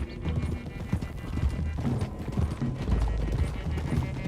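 Horses galloping in Red Dead Redemption 2, a dense, continuous drumming of hooves from several horses close by, with snorts and whinnies mixed in and occasional voices under the rumble.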